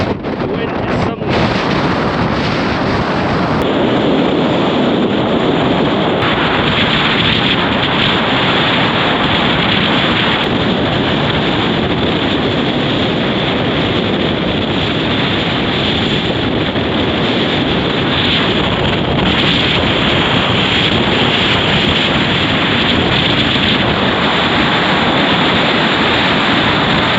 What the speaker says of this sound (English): Oh my word, the wind is something.